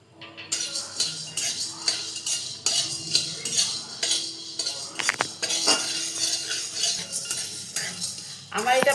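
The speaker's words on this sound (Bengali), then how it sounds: "কড়াইয়ের মধ্যে গোলমরিচটা আটখোলা ভেজে নেব" Black pepper dry-roasted in a hot wok, with a metal spoon or spatula clinking and scraping against the pan in quick irregular strokes, close and crisp, with occasional voices in the background.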